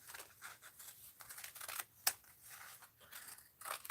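Scissors cutting a piece of mixed-media art material, a series of quiet close snips and crisp rustles in an irregular rhythm, with one sharper snap midway, no talk.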